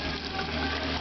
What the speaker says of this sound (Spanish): El agua, mira, ¿tú sabes cómo sale el agua?